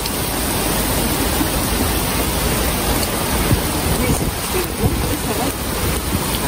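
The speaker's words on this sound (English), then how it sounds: "Oh, now it's raining on us." Rain falling on a boat at sea, a steady, dense hiss of drops under constant wind and water noise, loud and close with no clear breaks.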